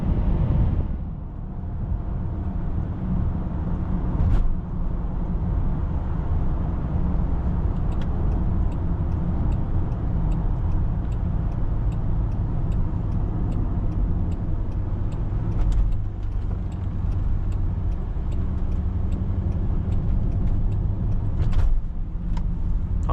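A 2023 Land Rover Defender 90 V8 Carpathian Edition drives along with a steady, full engine rumble and road roar heard from inside the cabin, holding at an even loudness with a few small clicks, and no one talks.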